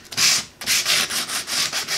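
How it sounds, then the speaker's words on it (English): A Ryobi power tool battery has its surface scuffed with abrasive before Plasti-Dip coating, giving loud, close, rhythmic rasping strokes, roughly six back-and-forth rubs in quick succession with no talk. "I'm going to try and scuff the surface up just to give a little bit better adhesion"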